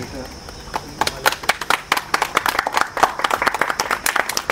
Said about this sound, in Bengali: একটু জোরে হাততালি দেবে সবাই